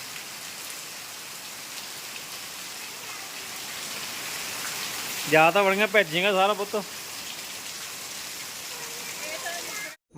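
Steady, heavy rain hissing continuously over a flooded courtyard, with a person briefly speaking over it in the middle.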